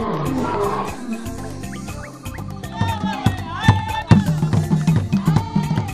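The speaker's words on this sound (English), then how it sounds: "the roar of the lion announcing his presence" A lion in Africa roars, the deep call rising and falling across the clip and mixed with music and other layered sound rather than standing alone.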